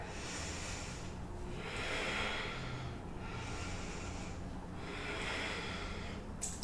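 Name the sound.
yoga breathing cycles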